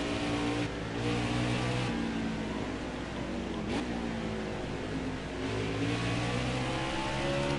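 A race car engine in the NASCAR Heat 4 video game at Mid-Ohio, a steady loud drone that shifts pitch through gear changes and easing throttle, with a brief passing whoosh midway.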